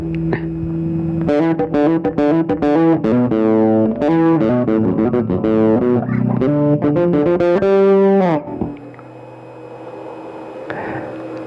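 A bass guitar riff through an Electro-Harmonix Nano Battalion bass preamp and overdrive pedal set to distortion plays loud and steady for about eight seconds, then cuts off, leaving a quiet hum and a brief faint voice.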